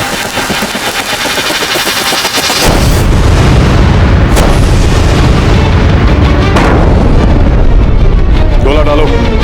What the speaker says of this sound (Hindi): बरसाते रहो तोपों से गोले